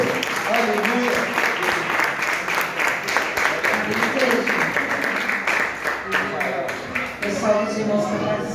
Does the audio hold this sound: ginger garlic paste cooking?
no